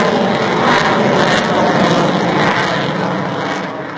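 Military aircraft, including a MiG-29, roar past during a national day flypast and aerobatic display, a loud continuous jet rumble that swells and then slowly fades away.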